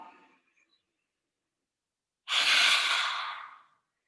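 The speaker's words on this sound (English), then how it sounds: "as you exhale, tongue out, nice and loud exhale" A loud, forceful exhale with the tongue out during prenatal yoga breathing, a single broad breathy rush of about a second and a half following a faint trailing voice, close and clear.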